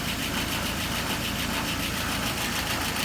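A carburetted engine runs steadily at a slightly high idle, a continuous dense mechanical drone with a fast even pulse, close and fairly loud throughout with no talking.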